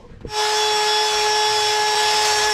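A power tool starts up after a brief clunk and runs at a steady high whine while deburring a turbo turbine housing, loud and close with no speech.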